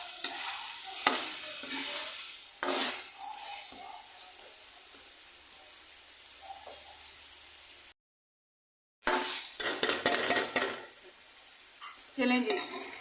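Chicken masala is roasted (bhuna) and stirred in a pan over medium heat, a steady close sizzle and hiss with scraping stirs and a few sharp clinks; the sound cuts out completely for about a second midway.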